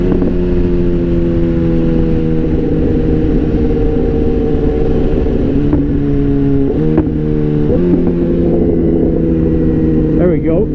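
A motorcycle engine hums at a steady idle close by, its pitch shifting in small steps and surging briefly near the end as it is revved.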